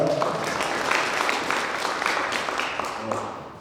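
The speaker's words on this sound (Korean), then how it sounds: "다시 한번 박수 부탁드리겠습니다." Audience at an education training session applauding, a continuous crackle of many hands clapping at moderate volume that fades slightly toward the end, with a few brief voices underneath.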